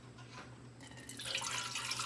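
Water is poured into a bread machine pan for rye bread, a soft close trickle that swells into a brighter, fuller splashing pour over a faint steady background hum.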